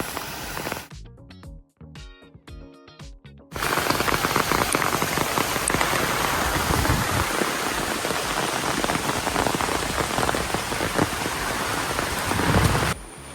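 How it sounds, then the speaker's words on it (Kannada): Heavy rain pours down in a dense, steady roar after a brief quieter opening with a few sharp clattering knocks. "ಸಖತ್ತಾಗಿ ಮಳೆ ಹೋಯ್ತಾ ಇದೆ"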